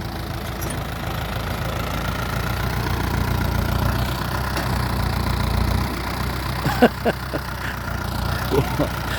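A four-cylinder engine drives a water pump on a farm, running with a steady low rumble and rough knocking throughout, while a few brief clanks break in near the end.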